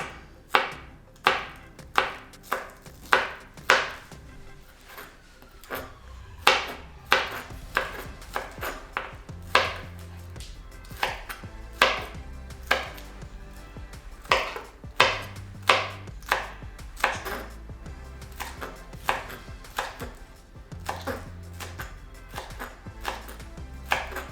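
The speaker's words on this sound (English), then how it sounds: "And then we'll cut this into nice small slices." A knife slices green onions on a cutting board in regular crisp chops, dozens of sharp close knocks in a steady rhythm with short pauses, and no voices.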